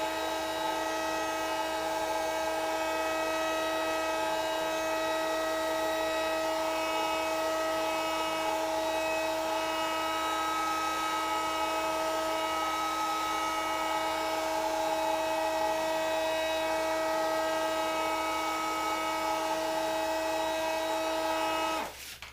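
Sandblasting a metal part ahead of powder coating in a home workshop: a loud, steady blasting hiss with a constant tonal whine runs unbroken for about twenty seconds, then cuts off abruptly at the end.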